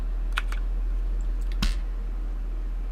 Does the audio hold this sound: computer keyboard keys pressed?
yes